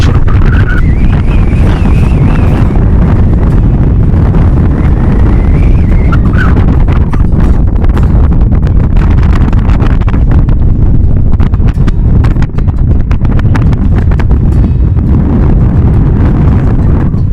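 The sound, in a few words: strong wind in Churchill, Manitoba, on the Hudson Bay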